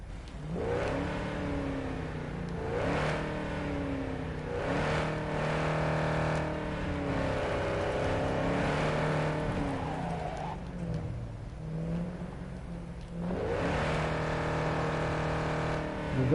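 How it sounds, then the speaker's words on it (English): A deep video game car V8 engine, naturally aspirated and non-resonated, in Cyberpunk 2077, revs up and down continuously, rising and falling in pitch with a steady droning roar, loud and close, no talking. "that sounds like a non-resonated, naturally aspirated V8"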